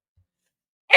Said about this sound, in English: over here sneezing for no reason